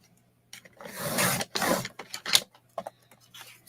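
Paper being trimmed for a handmade card gives short scraping and rubbing strokes close up, several separate passes with brief pauses between them and a small click, all fairly quiet.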